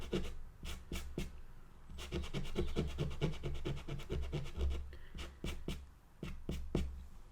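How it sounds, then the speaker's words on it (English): A Tombow sand eraser rubs out pencil on paper with steady, close scratchy strokes in a fast rhythm, briefly pausing before a few final rubs. "It is called a sand eraser and it does kind of feel like it's sandpaper."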